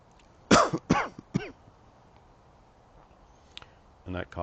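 A few short, sharp coughs from sinus drainage during a cold, in quick succession close by, followed by quiet and then a brief voiced sound.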